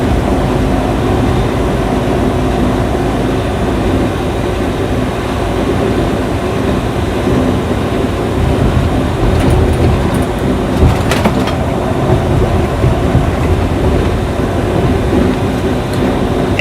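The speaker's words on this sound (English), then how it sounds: "Yeah, that was a short train." A short freight train passes, heard from inside a semi truck on the road between Iowa and Nebraska, a long steady rumbling roar blending with cab and road noise, with a few brief clanks near the end.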